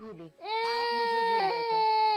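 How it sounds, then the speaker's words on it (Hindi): A baby wails in a loud, sustained, high cry following a short whimper, close by in a domestic scene from a Pakistani TV drama. "बच्चा रो रो के हलकान कर लिया इसने अपने आप को।"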